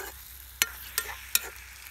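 A spatula scrapes a pan of meat curry at an outdoor village picnic, three sharp strokes over a low steady sizzle, close by and without talk.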